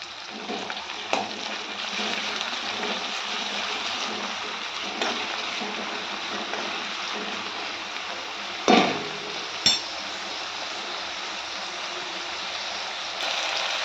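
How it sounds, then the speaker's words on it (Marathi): Onion and tomato sizzle steadily in oil in a hot pan while cooking besan, a constant close frying hiss with a couple of sharp clinks from a spoon against the pan. "कांदा आणि टोमॅटो चांगले परतत आहेत"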